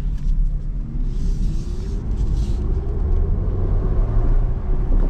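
A Maserati GranCabrio Folgore electric convertible accelerates with a smooth, rising whine over a steady low road rumble, with no talking.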